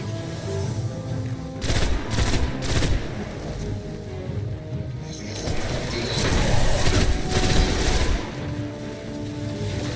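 Pulse rifle fire in Destiny 1, heard as repeated loud bursts of gunfire spread across the stretch amid busy game noise.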